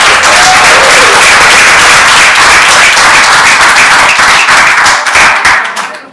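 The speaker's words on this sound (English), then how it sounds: "they deserve a round of applause" A loud, dense burst of applause fills a commissioning ceremony for donated buildings and an ambulance, many hands clapping at once, sustained and close before tapering off at the end.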